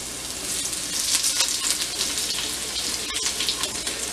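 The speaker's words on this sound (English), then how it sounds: "you can see that it's starting to sizzle, and the potatoes are getting a good color" Potatoes sizzle steadily in hot oil in a pan while jalapeño sliders are cooked, a constant close crackling hiss with no pauses and no voices.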